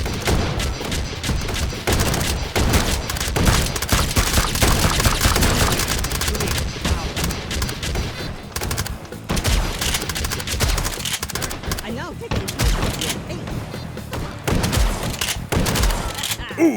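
Dense, rapid bursts of gunfire and booming impacts from the VR shooter H3VR rattle almost without pause, while a player talks over the shooting.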